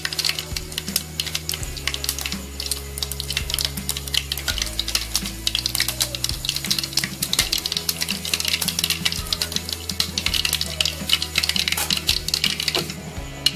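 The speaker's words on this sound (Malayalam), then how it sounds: "നമ്മുടെ വെളിച്ചെണ്ണ ചൂടായി കഴിഞ്ഞു. അതിലേക്ക് നമുക്ക് 1 സ്പൂൺ കടുക് ഇട്ട് കൊടുക്കാം." Mustard seeds spluttering in hot coconut oil in a pan, a steady dense crackle of tiny pops and sizzles, fairly quiet and close, with no talking.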